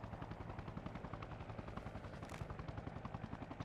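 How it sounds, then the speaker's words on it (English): Distant automatic gunfire from the military shooter Arma Reforger, coming from up on a hill, sounds as a faint, rapid, even train of shots that keeps going without a break. "Somebody's shooting at it from up on the hill."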